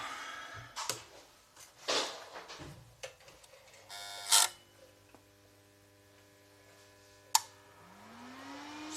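Repaired Titan PIS 4000 welding inverter switched on: several quiet clicks and clunks, then a steady low electrical hum and faint tonal whine, with a rising tone sweeping up near the end; quiet and close, without talk.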